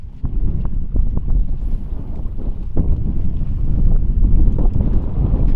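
Wind gusts buffet the microphone on a rocky Lake Mead shoreline during striper fishing, a steady low rumble with scattered thumps and rustles and no talk.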